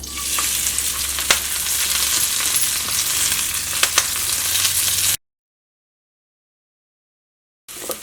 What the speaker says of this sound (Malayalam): അപ്പോൾ സവോളയ്ക്ക് നന്നായിട്ട് വഴന്ന് വന്നിട്ടുണ്ട്.